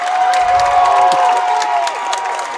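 Home crowd at a Cloverbelt East boys' high school basketball game in Spencer vs Neillsville cheering and shouting loudly in a gym, a steady roar of voices lasting the whole short moment.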